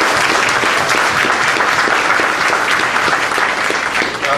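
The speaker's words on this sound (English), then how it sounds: "Let's give them a wonderful round of applause." A room full of people at a mayoral forum claps in a loud, continuous round of applause, close and even throughout with no voices over it.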